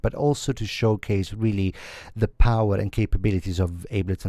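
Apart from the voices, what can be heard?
None of the usual background noises is heard.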